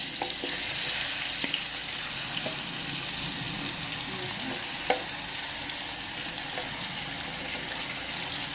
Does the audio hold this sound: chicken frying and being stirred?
yes